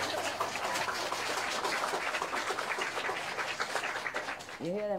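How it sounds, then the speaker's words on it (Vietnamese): Steady crowd applause from an upstairs room, muffled and continuous at moderate level, with a voice breaking in briefly near the end. "Quý vị nghe họ vỗ tay không?"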